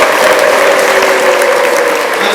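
A church congregation clapping loudly and continuously, dense applause with a faint sustained tone underneath, no speech.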